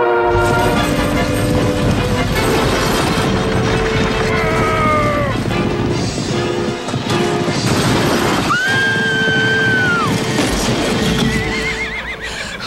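Horses neigh and whinny loudly several times over a busy background of galloping hooves and clattering movement, with a long rising whinny near the end.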